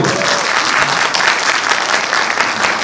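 A crowd at a Korean open-air TV show recording in Ilsan breaks into loud, sustained applause, a thick, close wall of clapping that runs evenly throughout.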